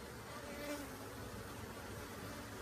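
Honey bees buzzing steadily as they march down a board toward the hive, a dense, continuous close drone with no pauses.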